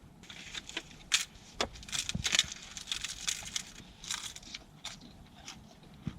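Someone bites and chews a large, crunchy, oily cheese pastry like a burek, with brittle crackling bursts of crust breaking close up and no talking.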